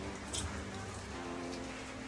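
Rain falls steadily in Batumi, Georgia, a soft continuous hiss of drops with no voices.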